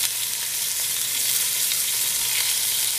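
Meat browning in a hot pan gives off a loud, even, continuous sizzle with no breaks and no voices.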